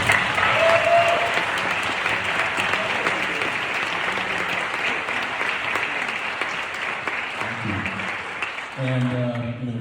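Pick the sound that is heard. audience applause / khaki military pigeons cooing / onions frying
audience applause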